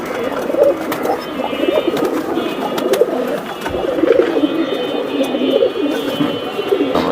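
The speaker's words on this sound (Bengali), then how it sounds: "কবুতর" Domestic fancy pigeons coo steadily as a flock of many birds, with overlapping throaty calls close by and no pauses.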